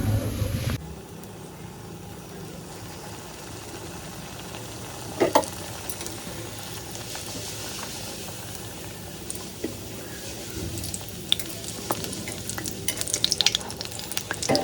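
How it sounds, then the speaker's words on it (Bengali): Luchi puffed flatbread frying in hot oil gives a low, steady sizzle in a home kitchen, fairly faint and continuous, with a few sharp clinks and scrapes of utensils scattered through and no talking. "আর আমি এখানে ভাজছি লুচি"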